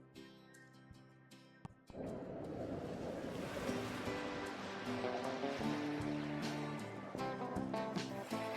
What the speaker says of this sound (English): Just the sound of the waves, the ship pulling away, and that first breath of sea air.